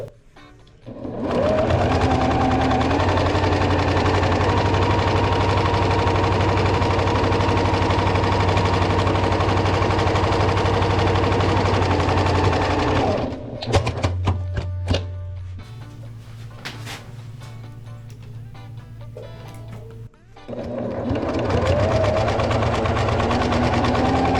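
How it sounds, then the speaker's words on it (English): A sewing machine stitches quarter-inch seams along the sides of fabric with a loud, steady whirring drone over two long runs, broken by a pause filled with clicks and handling noises before the stitching starts again. "go ahead and sew along both of those sides and just use 1/4 inch seam"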